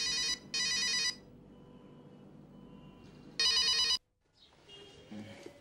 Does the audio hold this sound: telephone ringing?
yes